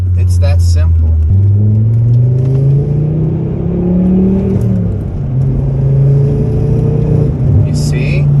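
A manual stick-shift car coasting downhill off the gas with the clutch in, giving a steady, loud interior engine rumble whose drone shifts pitch, while people talk over it.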